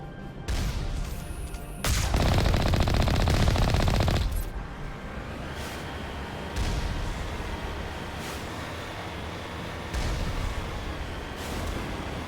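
Rapid automatic gunfire in Mass Effect, with a loud sustained burst followed by sharp single shots spaced a few seconds apart, close and dominant with no talking.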